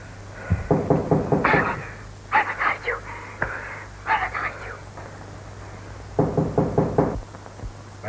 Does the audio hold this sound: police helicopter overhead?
no